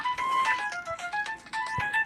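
An electronic phone ringtone chirps in a quick melodic pattern of tones, moderately loud with some background noise.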